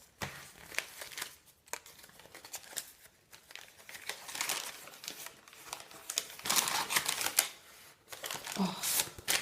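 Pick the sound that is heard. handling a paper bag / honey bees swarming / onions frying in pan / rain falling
handling a paper bag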